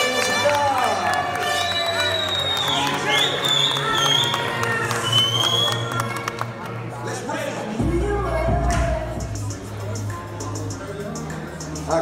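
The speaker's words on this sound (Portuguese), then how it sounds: "Cadê os aplausos, gente?" Audience applause and cheering at a São Paulo bodybuilding contest during the Women's Physique overall posedown, a loud continuous crowd roar with clapping over pounding background music and an announcer's voice.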